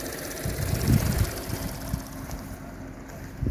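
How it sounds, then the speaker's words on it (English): A small generator engine idles steadily at an off-grid site, a low, even mechanical hum with a faint knocking rumble, close by and alone. "The engine's running at idle, not spending a lot of fuel."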